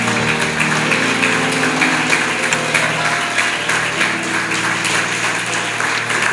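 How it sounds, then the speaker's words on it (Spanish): A church congregation applauds loudly and steadily, a dense wash of clapping sustained throughout with a low tonal hum of music or instruments running beneath it. "Denle un aplauso fuerte al Señor"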